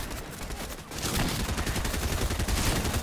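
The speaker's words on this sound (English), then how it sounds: "And we already have gunshots." Rapid bursts of gunfire in the video game Fortnite, a dense volley of overlapping shots that grows louder after a brief lull and keeps crackling steadily to the end.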